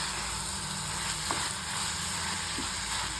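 Ridge gourd fries in a pan with a dense, steady sizzle of even loudness, and a couple of faint stirring scrapes come through, with no talk.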